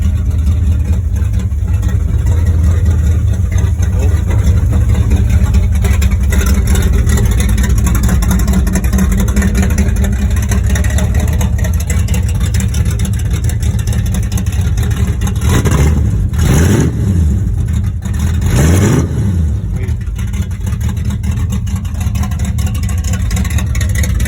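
A car's 302 V8 engine with new heads runs loudly and close for a long stretch with a steady deep rumble, then revs up sharply twice near the end, each rise and fall clearly audible.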